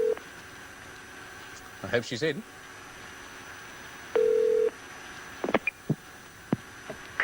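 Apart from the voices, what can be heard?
telephone ringing on international call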